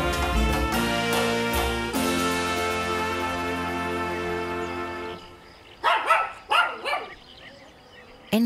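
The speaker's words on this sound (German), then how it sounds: "Endlich Hundegebell auf dem Grundstück von Corinne und Ralf Waldburger an der Costa Blanca." A dog on a property on the Costa Blanca gives several loud, close barks in quick succession near the end, after a stretch of sustained music.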